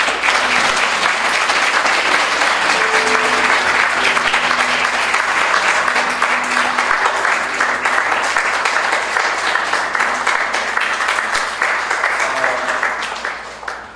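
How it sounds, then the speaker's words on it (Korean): A congregation gives a long, sustained round of applause during a church thanksgiving service, dense and loud clapping that holds steady before tapering off at the end. "다시 한번 격려의 박수 부탁드립니다"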